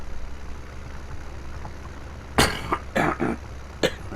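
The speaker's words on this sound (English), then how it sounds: "We'll try and remove those coughs when I come to edit" Several sharp coughs from a person whose drink went down the wrong way, a close burst followed by two more fits and a last short cough, over a low steady engine-like hum.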